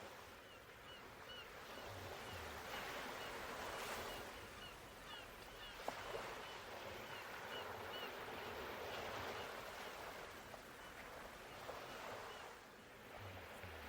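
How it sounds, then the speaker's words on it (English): A steady, distant wash of surf rolls on continuously, broad and hissing with gentle swells in loudness, no voices. "the rhythmic sound of the waves"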